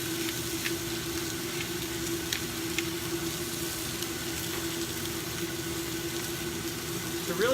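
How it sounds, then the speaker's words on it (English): Pork chop searing in a hot pan, a steady crackling sizzle held at an even level throughout, with a low hum underneath. "we're just going to sear it on this second side"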